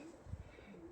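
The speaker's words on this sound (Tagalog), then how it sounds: "Kalapati, dami." Pigeons cooing on a roof on a cold, foggy day in Slovakia, a soft low coo at a distance, faint and brief.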